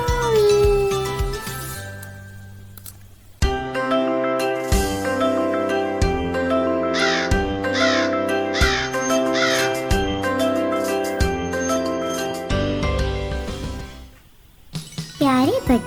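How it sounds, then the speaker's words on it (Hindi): A crow cawing repeatedly over a bouncy musical background of stepping tones and chimes, with a voice speaking near the start. "एक दफा एक कौवा बहुत प्यासा था"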